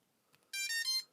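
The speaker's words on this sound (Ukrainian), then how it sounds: "Грає перший рінгтон, коли підключається живлення на регулятори" A short series of high, electronic beeping tones from an FPV drone's motor speed controllers powering up rises in quick succession, clean and close, after a brief quiet click.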